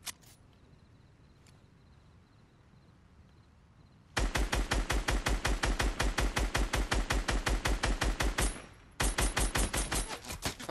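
Rapid automatic gunfire in Fortnite, shooting toward a distant lighthouse: a loud, steady burst of evenly spaced shots runs for several seconds, breaks briefly, then resumes, after a quiet stretch with a few faint clicks.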